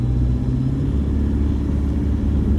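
A 2014 Toyota Hilux diesel engine runs while the truck drives, a steady low rumble at just over 2000 revs with no voices.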